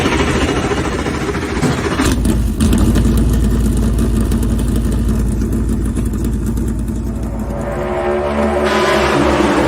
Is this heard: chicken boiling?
no